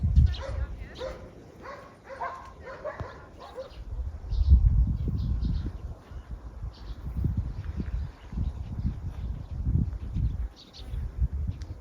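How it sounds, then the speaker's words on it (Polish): Dogs bark at a rural farmstead near an abandoned old psychiatric hospital, a cluster of sharp barks early on, then distant, sporadic yaps over low rumbling wind and handling noise. "Tam na Ewę szczekają psiury"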